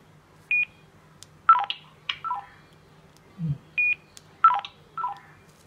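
Button presses on a mini 4G IP radio produce short electronic keypad tones, several distinct beeps in two repeating groups with brief pauses, close and clear against a quiet room.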